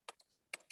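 Fingers tap out a web address on a computer keyboard: four quiet, crisp keystrokes in two pairs, close by and alone.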